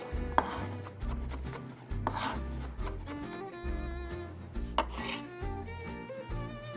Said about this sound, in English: So touch of garlic, just a little bit. I'm going to chop it very thinly.